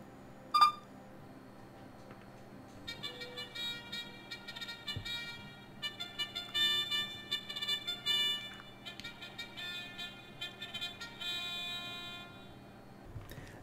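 An Arduino voice-activated MP3 player plays a song through a small speaker, a quiet thin melody of electronic beeping tones that runs for several seconds after a brief click.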